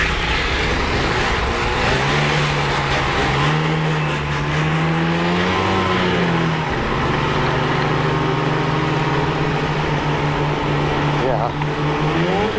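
A 2025 Arctic Cat ZR 858 Catalyst snowmobile engine accelerating, a loud continuous drone that climbs and dips in pitch across the ride, with some rider talk mixed in at points.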